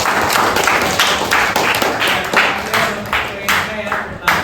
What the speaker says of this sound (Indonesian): tepuk tangan buat Adel